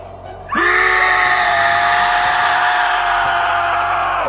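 A ghostly scream from a horror story bursts in after a brief silence, a loud, sustained, shrill wail that holds steady for several seconds with a wavering, echoing tone and no talk over it.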